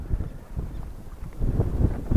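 Wind gusting outdoors while fishing with lures in rain, a steady low rumbling buffet against the microphone that grows stronger toward the end, with no voices.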